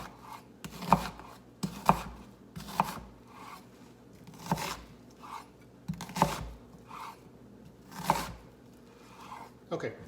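An onion is chopped with a knife on a board, giving a series of close, irregular cutting thuds and rasping strokes about once a second, alone without speech.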